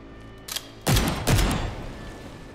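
In the game Vaporum, two heavy gun blasts boom close together after a faint click, each leaving a short rumbling tail over a quiet, humming background.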